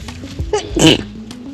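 A single sharp sneeze bursts out close by in a backyard garden, preceded by a short intake of breath, in an otherwise quiet setting.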